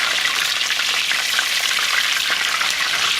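Loud, continuous sizzle of mojarra fish frying in deep oil in a pan, a dense crackling hiss with scattered pops and no voices.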